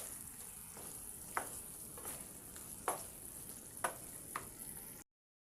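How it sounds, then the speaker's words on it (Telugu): Ginger garlic paste frying in a pan for a prawn curry: a quiet, steady sizzle runs throughout, broken by a few sharp spoon scrapes at uneven intervals, with no voices. "ఇప్పుడు దీన్ని కూడా బాగా పచ్చివాసన పోయేంత వరకు ఫ్రై అవ్వనివ్వండి అల్లం వెల్లుల్లి పేస్ట్"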